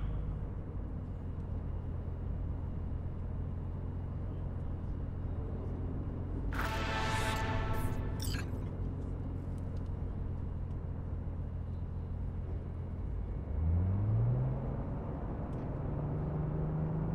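A car drives through Night City in Cyberpunk 2077, a steady low engine rumble that holds throughout, with a brief bright mechanical whine midway and a rising engine tone near the end.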